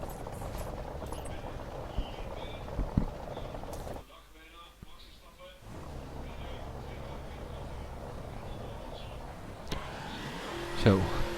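A car engine in the video game The Crew revs and drones at a race start, a steady loud roar that dips for a moment mid-way and then rises again, with someone talking over it.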